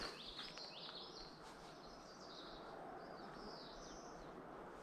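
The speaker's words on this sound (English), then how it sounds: "Isn't the birds pretty?" Several birds chirping and trilling in a forest near Cold Brook Falls, faint and somewhat distant over a soft steady rush of water.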